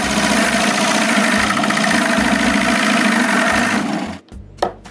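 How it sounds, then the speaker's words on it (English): A large hole is drilled into the front of a homemade wooden jointer, giving a loud, steady, grinding power-tool roar that cuts off abruptly near the end, followed by a couple of short clunks. "I drill a big hole on the front of the jointer"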